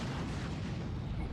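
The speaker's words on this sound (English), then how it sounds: "Was that an explosion?" A deep rumbling explosion in the video game Naruto Storm 3, a sustained low boom that fills the whole moment at moderate loudness.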